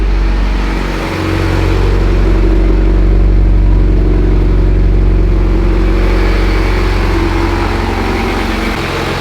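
A Mitsubishi Evo X with a knocking engine starts up with a low rumble and is held at a loud, steady high idle with rising revs, close by in a shop and with no talk.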